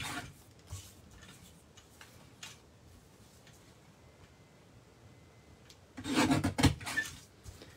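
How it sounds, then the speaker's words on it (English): Vellum adhered to cardstock being trimmed, with faint scattered rasps and scrapes building to a louder burst of close cutting noise near the end. "and then I'll just trim it so that it's ready to use on a card."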